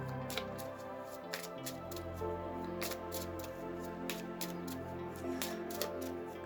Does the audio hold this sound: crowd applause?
no